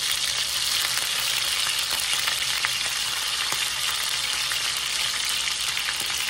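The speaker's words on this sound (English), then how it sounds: "we're going to just take this meat because we want to get a sear on it" Beef searing in a hot skillet gives a loud, steady, dense sizzle with faint crackles and pops, continuous throughout and with no voices.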